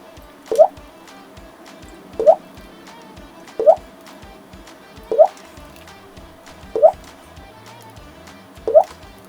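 Drops of a homeopathic dilution falling into a glass of water, six evenly spaced bright plops about a second and a half apart, clear and close over a faint background hum.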